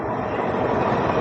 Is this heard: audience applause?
no